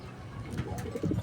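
Pigeons coo in short, soft, throaty bursts close by, a few low calls overlapping in quick succession with no talk.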